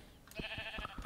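A sheep in Minecraft bleats in a short series of soft, wavering calls, faint and alone with no talk over it.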